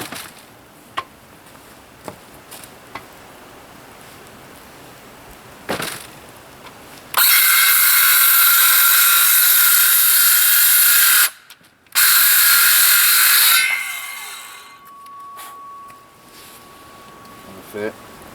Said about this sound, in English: So I'm going to cut that up for firewood as it is.